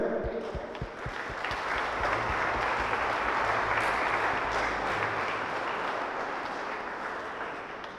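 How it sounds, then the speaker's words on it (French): A congregation applauds inside a church during a Saturday mass, with steady, full clapping that swells and holds for several seconds before easing off slightly. "Allez, viens Catherine, viens, on va t'applaudir aussi."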